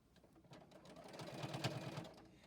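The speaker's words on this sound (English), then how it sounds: "look at how effortlessly the machine goes through all of these layers" A JUKI sewing machine stitching through several layers of fabric on a storage roll-up project, giving a short close burst of rapid mechanical whirring and needle clatter that builds in speed and loudness.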